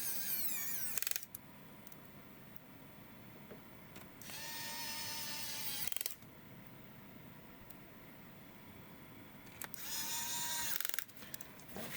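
An electric screwdriver backs out the fan screws on an MSI GP76 laptop in three separate bursts of high whirring, each lasting about a second or two, with quiet pauses between them.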